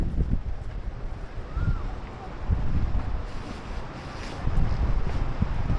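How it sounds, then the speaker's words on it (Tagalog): Gusty beach wind rumbles against the microphone in uneven surges, a low roaring backdrop with no other clear sounds. "Lakas ng hangin."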